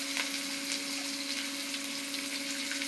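Potatoes, green chillies and onions sauté in a hot pan, giving a steady, even sizzle with a faint constant hum beneath it, close and moderately quiet, no voices.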